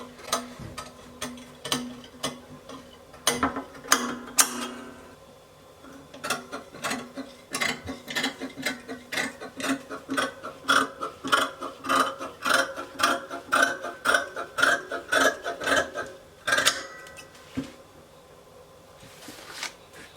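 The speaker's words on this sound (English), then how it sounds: "I will go ahead and cut it out." Scissors cut fabric for a deep V-neck dress with bell sleeves, each snip a crisp, close click in steady repeated runs, with short pauses between passes.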